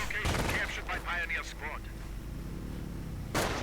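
Heavy 155mm artillery fire in a real-time strategy game sounds as deep booms, with one sharp blast near the start and another near the end, while a commentator talks over the battle.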